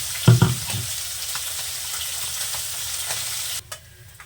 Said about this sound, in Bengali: মাছকাটা ভাজা হয়ে গেছে